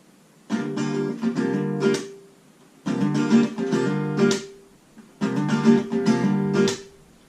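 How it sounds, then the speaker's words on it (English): Acoustic guitar strumming from a song repeated three times in the same pattern, quick strokes with little index- and middle-finger hammer-ons mixed in, each phrase separated by brief gaps. "by doing hammer-ons with our index and our middle finger"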